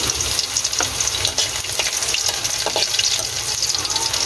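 Garlic frying in cooking oil, a dense close sizzle with scattered pops and a few stirring clinks over a steady crackle.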